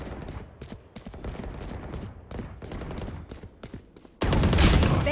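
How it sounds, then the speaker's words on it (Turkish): Rapid gunfire from a Dragon Vandal rifle in Valorant, a deathmatch exchange of quick bursts and single shots, mid-level and busy, ending in a louder wash of game sound. "Şu mermi değişinin güzelliğine bakar mısın?"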